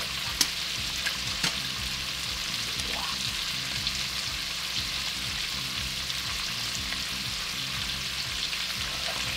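Beef searing in a pot for beef bourguignon, a loud, continuous close sizzle with crackling pops and occasional stirring scrapes, steady throughout with no talking.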